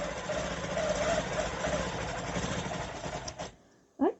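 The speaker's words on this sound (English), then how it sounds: "I'm going to stitch back a bit" A domestic sewing machine stitching fabric with two threads through one needle, a fast steady mechanical whirr and rattle running close for about three seconds before stopping, followed by a brief sharp squeak.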